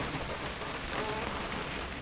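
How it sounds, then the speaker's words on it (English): Steady rain falls and patters on surfaces in the video game What Remains of Edith Finch, a soft, even hiss of raindrops continuing without pause, fairly quiet and with no talk. "It's gonna rain the whole weekend, isn't it?"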